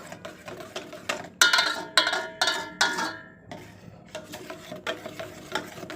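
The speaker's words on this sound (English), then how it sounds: "You stir from time to time to stop the soup from burning. So that is what I'm trying to do." Spoon scraping and knocking against a pot while stirring hot process neem and moringa soap, a run of rhythmic metallic clinks and scrapes, close and fairly crisp, fading to softer taps toward the end.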